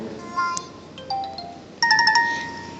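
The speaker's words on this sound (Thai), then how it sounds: "อันนี้ก็เป็นเสียงของไลน์เลยนะครับ" Short chiming tones of a LINE app notification sound play from a phone's notification settings, a few separate bright dings followed by a quick rising cluster of notes.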